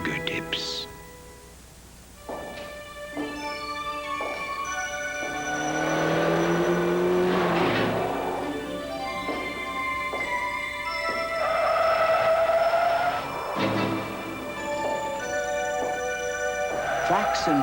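A 1986 Honda Prelude Si drives hard, its engine revving and rising in pitch while tires squeal through turns, loud and close, with a narrator talking over it and music underneath.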